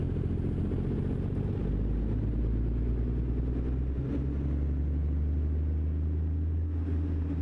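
Truck with a Cummins engine in American Truck Simulator, cruising through snowy Glacier National Park, its deep diesel drone steady and loud throughout, with a brief shift around the middle and no talking.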